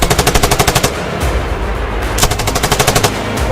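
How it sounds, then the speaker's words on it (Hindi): Bursts of automatic gunfire in a clash between the Pakistani army and Baloch fighters: rapid, evenly spaced loud shots in a volley, a brief pause with a single report, then another fast burst close by. "गोलियां चला रहे हैं।"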